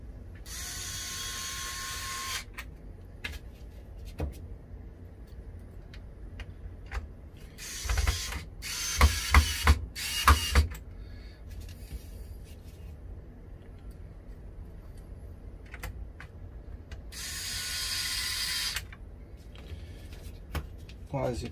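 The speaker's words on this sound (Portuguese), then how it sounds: "essa parafusadeira aqui elétrica é uma mão na roda" Electric screwdriver backing screws out of a Philips air fryer during a cleaning job, short bursts of high whirring and ratcheting separated by pauses, with a cluster of sharp clicks midway and a person talking in between.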